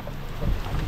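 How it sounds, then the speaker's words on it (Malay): Heavy rain pours during a trip in Kuala Terengganu, heard as a dense, steady roar of wide noise with deep rumbling underneath, holding level through a brief stretch without voices. "Hujan guys, hujan."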